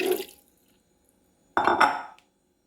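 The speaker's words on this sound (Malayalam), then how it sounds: "ഒരു ശകലം വെള്ളം ഇതിനകത്ത് കൂടി ഞാൻ ഒഴിക്കുന്നുണ്ട്" Two short bursts of water splash into a metal pressure cooker for tapioca biryani, close by, separated by a brief silence.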